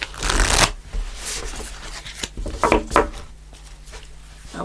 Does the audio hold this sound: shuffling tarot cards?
yes